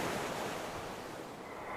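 Strong sea waves surge onto the shore in a steady, loud, broadband roar with no pause, with some wind noise mixed in.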